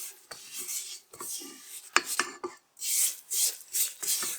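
Spatula scraping around a mixer bowl of carrot cake batter, a run of short rasping strokes and light taps, close and fairly quiet, with a few brief pauses between passes.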